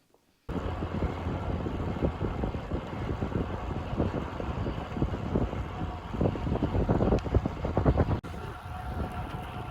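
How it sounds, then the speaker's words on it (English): Steady wind buffeting a microphone, a constant low roar with gusty swells, running throughout after a brief quiet start. "It's a little bit windy."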